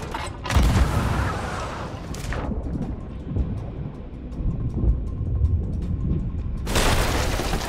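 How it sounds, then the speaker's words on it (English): Ship cannons fire in the pirate video game Sea of Thieves: loud, deep booms with broad rumbling blasts, three main shots spaced several seconds apart over a continuous low background roar. "just keep putting the pressure on the cannons"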